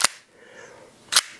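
The slide of a Novritsch SSP-18 airsoft pistol is racked, giving two sharp, close metallic clacks about a second apart with a faint mechanical rattle between them.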